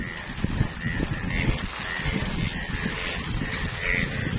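A dense chorus of many frogs calls together during heavy rain in the Sundarbans region, croaks overlapping in a steady, busy mass that never pauses, with no one talking.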